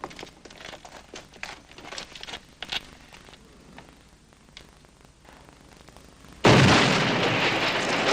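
Quiet crinkling and small knocks give way to a sudden loud blast from an explosive charge, followed by a sustained rumbling roar.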